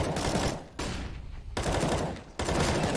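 Pistol gunfire from Counter-Strike on the Dust2 map during a pro match, coming as loud broadband bursts separated by brief quieter gaps, with shots overlapping in dense volleys.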